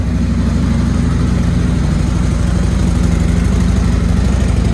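A Harley motorcycle with quiet pipes idles nearby while its noisy fuel pump whirs. The low engine rumble is steady and loud, with no talk over it.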